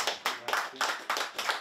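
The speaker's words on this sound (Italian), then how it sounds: "Siro Perin, un applauso." Brief audience applause at an art event in Santa Fosca, a few seconds of clapping hands in quick bursts, fairly faint and heard on its own.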